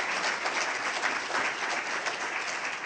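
Audience at a high school band reunion and hall of fame induction breaks into steady, dense applause, a loud, even wash of clapping sustained throughout with no speech.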